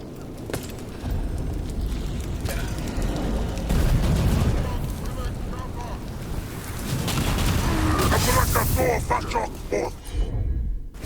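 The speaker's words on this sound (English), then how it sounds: "Cannon fire! Get clear!" Heavy booming cannon fire and crackling bursts roll continuously beneath a dense rumbling din in Dragon Age: The Veilguard, loud and chaotic, with game-style explosions thudding close together.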